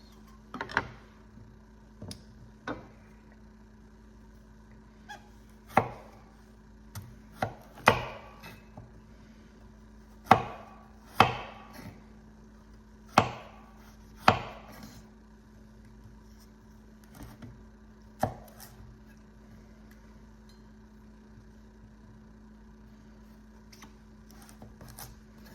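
Knife chopping food on a cutting board, a kitchen knife slicing ingredients for salads and stews: a loose series of sharp, close chops with uneven pauses, some strokes louder than others, with no talk.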